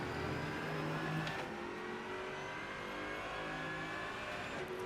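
Race car engines in the sim racing game Rennsport drone steadily at high revs, a sustained mechanical whine with a brief spike of a car passing close, no talking over it.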